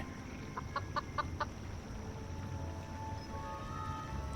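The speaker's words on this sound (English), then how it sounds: "It was a ramshackle chicken coop with infrequent clucks emanating from within." Infrequent clucks from chickens inside a ramshackle chicken coop, a short cluster of a few soft calls near the start, then only steady low background noise.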